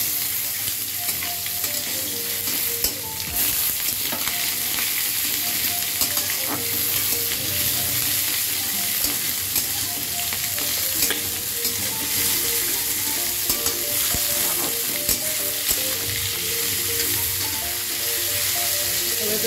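Potatoes and green chillies sizzle loudly in a pan, with a steady hiss of frying broken by frequent scraping stirs and clinks of the spatula throughout.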